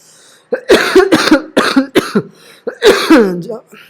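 A person coughs several times in quick succession, loud and close, with throaty bursts.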